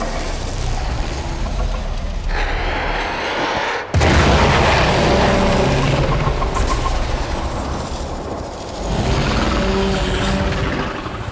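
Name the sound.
explosion in the video game Warframe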